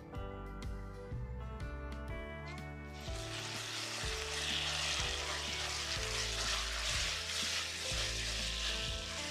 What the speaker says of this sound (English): Let's fry this till we get a nice aroma.